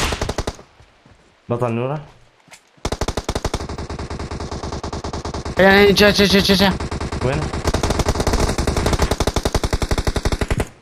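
Rapid automatic gunfire in the battle-royale video game PUBG, loud bursts of machine-gun fire rattling almost continuously for several seconds, with excited players talking over the shots.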